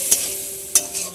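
Food sizzles in a pan while being stirred during village cooking for a Bengali wedding, with a steady hiss broken by two brief scraping clatters.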